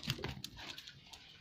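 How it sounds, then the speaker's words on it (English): A dog being let into the house makes short, faint snuffling and whimpering sounds, along with light movement close by. "Alright, I'm gonna let my dog in."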